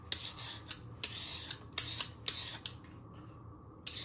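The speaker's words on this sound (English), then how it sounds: "you get your peeler and you peel all the skin off" Winter vegetables being peeled with a peeler, heard as a series of sharp scraping strokes in an uneven rhythm, close and crisp, ending in a brief pause before one last stroke.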